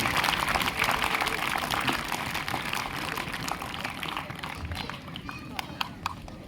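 Students at an outdoor school sports meet give the chief guest a long round of applause, a dense, busy patter of many hands that gradually thins and trails off into scattered claps.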